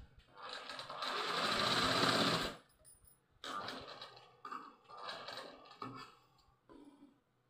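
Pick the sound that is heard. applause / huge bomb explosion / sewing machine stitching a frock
sewing machine stitching a frock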